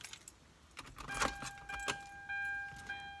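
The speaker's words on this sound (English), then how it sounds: "We'll go ahead and turn on the car." Car keys jangling near the ignition of a car as it is started, light metallic rattles and clicks followed by a steady electronic chime tone, all fairly quiet and close.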